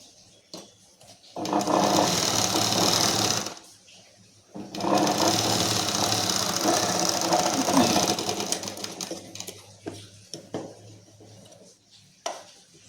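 A sewing machine runs a double stitch in two long bursts of steady whirring with a pause between, then a few short stops and clicks as the fabric is handled.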